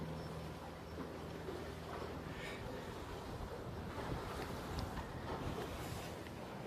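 Gusty wind buffets the microphone during a boat race with a constant rushing roar, mixed with faint splashing water, and no voices.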